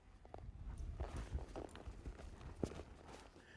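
Horse hooves shuffle and step backward on ground as a cutting horse is worked against a mechanical cow, several soft, uneven thuds close by with light clatter, no talk.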